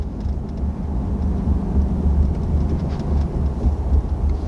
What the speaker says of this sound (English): Let's see if we can get a little exhaust brake action.